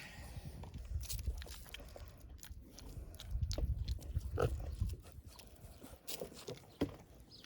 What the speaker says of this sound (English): I do love these pigs so much.